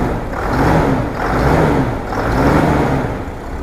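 A big Cummins diesel truck engine revs in three rising and falling surges, loud and close, a heavy low growl with no voices.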